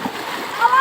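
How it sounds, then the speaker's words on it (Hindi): A child jumps into a village tube well pool, one short splash of water with a voice speaking over it. "अभी ये बच्चा छलांग लगाएगा पानी में।"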